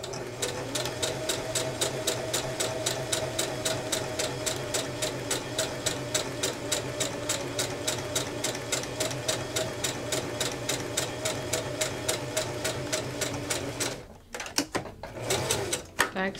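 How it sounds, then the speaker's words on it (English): A sewing machine stitches along straight lines in a steady, rapid mechanical rhythm that runs close and continuous, then pauses briefly near the end before a few more stitches. "I'm gonna sew in between the lines"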